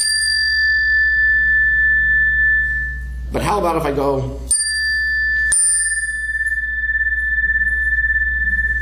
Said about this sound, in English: This little chime It's technically a unison chime, meaning it's the same note on two different bars.